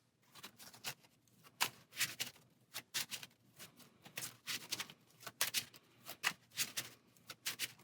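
Playing cards shuffled by hand during a Marvel Champions card game, a quiet close series of crisp riffling bursts and taps in an uneven rhythm, with no talk.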